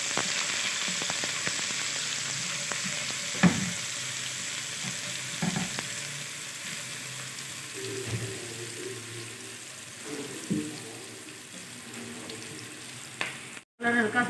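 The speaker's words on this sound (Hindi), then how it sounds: "इसमें बारीक कटा प्याज, इस तरह ऑमलेट कट प्याज काट के इसमें डाल लें" Finely chopped onion fries in a small amount of oil, giving a steady close sizzle with occasional stirring scrapes throughout, no talking.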